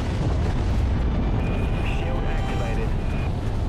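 Missile explosions in the Dreadnought space shooter game roar as a dense, continuous rumble of booms under steady game noise and a faint whine, with a voice talking over it.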